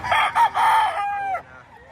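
A rooster roughly a year old, long-bodied and medium-sized, crows loudly and close at a livestock auction market in Padre Garcia, one full drawn-out call that ends abruptly, with faint crowd noise behind.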